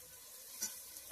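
Vegetables frying in oil for vegetable pulao, a faint soft sizzle with a couple of brief stirring scrapes, heard close and alone.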